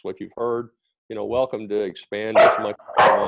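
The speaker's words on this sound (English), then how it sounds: "Excuse the dog." A pet dog barks a few times indoors, the sharp yaps overlapping a man's steady speech during a spoken discussion.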